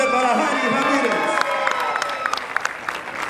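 A concert crowd gives loud applause and cheering, a dense roar of clapping and voices that thins into scattered distinct claps toward the end.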